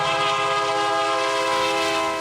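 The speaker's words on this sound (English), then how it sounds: "Right before this train raced by" A train races loudly past a railroad crossing, its horn blaring in steady sustained tones throughout, close and continuous with a rumbling undertone.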